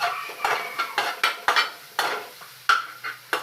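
Shrimp paste (alamang) sautés in a pan while a utensil clanks and scrapes against the metal in a quick, irregular rhythm, close and fairly loud over a soft sizzle.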